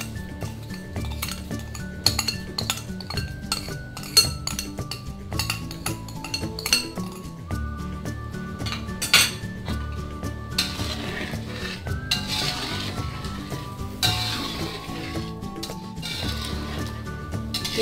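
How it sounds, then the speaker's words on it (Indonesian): A utensil stirs and scrapes the telur petis mixture of seasoned coconut milk in a pan, with steady close clinks against the metal and soft wet churning that carry on throughout with no talking. "Kita aduk-aduk lagi."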